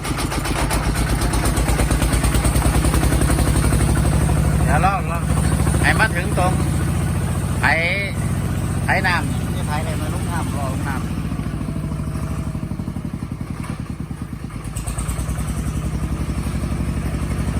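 A small walking tractor engine chugs steadily up close with a rattling, clattery idle, while a person talks intermittently over it.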